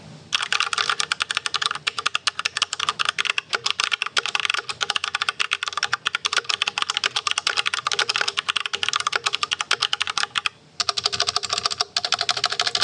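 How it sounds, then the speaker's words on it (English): Close, continuous typing on a K87T mechanical keyboard with tactile key switches, a dense run of clacking keystrokes with a brief pause near the end before the rhythm resumes. "So this is a tactile key switch K87T."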